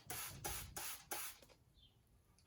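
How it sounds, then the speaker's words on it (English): A hand spray bottle mists water onto the soil of a potted plant in a greenhouse: four quick, close hissing bursts in a steady rhythm, then quiet. "And then I'm going to spray it right with water."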